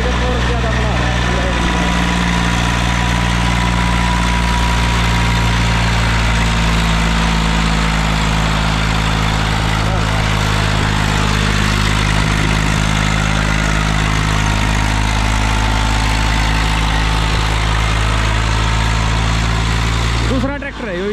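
A loud Eicher tractor engine drones steadily at full load while climbing a ramp, deep and rumbling throughout, with a muffled voice buried under the noise.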